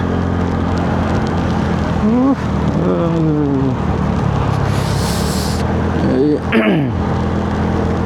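Heavy rain pours down outside a vehicle waiting near an airport, a dense, steady roar drumming on the body for the whole stretch, with a few brief rising tonal sweeps cutting through.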